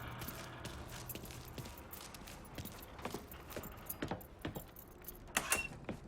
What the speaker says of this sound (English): Lincoln, pick up the keys.